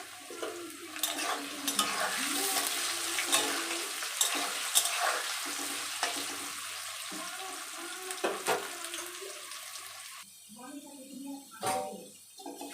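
Potatoes seasoned with salt and turmeric fry in a pan with a steady soft sizzle and scraping stirs, fairly faint, while a person talks over it; near the end the frying gives way to quieter handling sounds.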